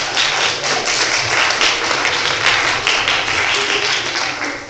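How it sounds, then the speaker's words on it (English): An audience claps for medical students at an NHS evening talk, a dense, continuous wash of applause from many hands that holds steady for several seconds, with no speech over it. "do medical students get a clap now for turning up?"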